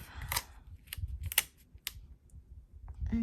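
Scissors snipping paper for a creative journal with waterfall tabs, a handful of short, crisp cuts close by, loosely spaced with pauses between them and no talking.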